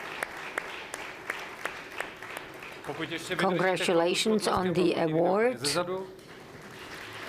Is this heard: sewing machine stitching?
no